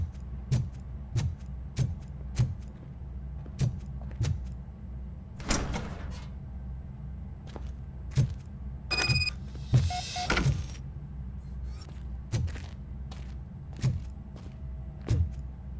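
In the RoboCop: Rogue City video game, heavy metallic footsteps thud at a steady pace while a door opens mid-clip with short bursts of mechanical whirring and clanking.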